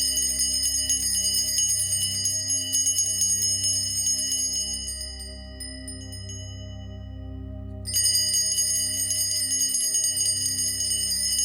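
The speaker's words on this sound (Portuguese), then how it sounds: "Ao ouvir o sino, trace sobre você o sinal da cruz" A large church bell rings during a worship service with long, resonant tones that fade briefly in the middle before striking up again, bright and sustained.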